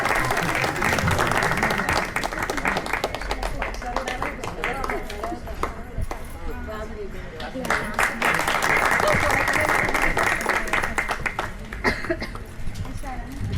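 Audience at a felicitation get-together applauding, steady clapping through most of the stretch with a brief dip in the middle, while an announcer speaks and the crowd murmurs.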